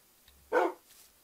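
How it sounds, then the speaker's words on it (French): A single short dog bark in a survival video game, one brief burst standing out from a quiet background with a faint echo after it. "Oh, des chiens."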